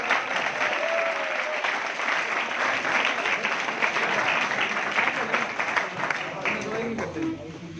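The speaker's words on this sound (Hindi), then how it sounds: "भैया हमारे डायरेक्टर को जोरदार तालियां।" Loud applause from a gathered audience honoring a director at a coaching-class New Year event, continuous crowd clapping with chatter and voices mixed in throughout.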